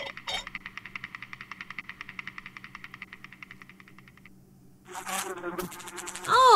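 Steady, rhythmic buzzing of cartoonish mutant bees in the video game Mitoza, a pulsing drone for several seconds that fades out, followed by brief game sounds and a voice.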